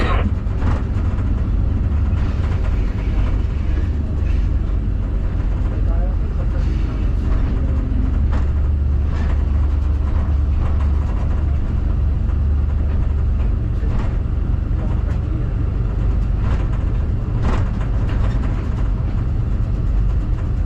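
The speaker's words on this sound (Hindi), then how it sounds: "ये देखें यहाँ से ट्रेन हमारी डाइवर्ट हो गई" Sir Syed Express train rolling along the Wazirabad–Khanewal branch line, a steady loud low rumble of wheels and carriage with repeated sharp clicks of rail joints throughout, heard from inside the coach.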